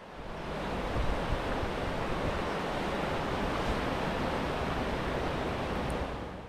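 The River Doe rushes beneath a bridge on the Ingleton waterfalls trail, a loud, dense and steady roar of flowing water that fills the whole stretch, heard close with no voices.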